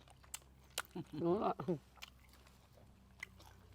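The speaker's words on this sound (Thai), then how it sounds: "โมกินข้าวเสียงดังเลย" Someone eating rice with loud, wet chewing and biting in a short burst of mastication sounds close to the listener, surrounded by faint room noise and small clicks.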